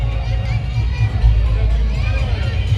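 A large crowd murmurs and chatters at a kho-kho match during the Hareli festival, a steady babble of voices with children's speech mixed in and louder surges of noise.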